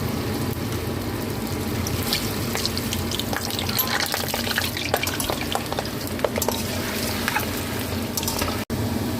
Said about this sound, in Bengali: এই যে এই বলগুলো এবার ভেজে নেবো একে একে